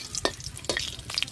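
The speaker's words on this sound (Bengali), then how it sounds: "ফোড়নে দিয়ে দেবো তেজপাতা আর শুকনো লঙ্কা" Bay leaves and dried chillies hit hot mustard oil for a tempering, giving a close, steady sizzle with a few sharp crackling pops over about a second and a half.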